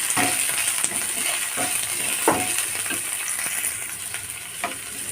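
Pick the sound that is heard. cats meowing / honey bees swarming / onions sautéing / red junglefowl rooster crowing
onions sautéing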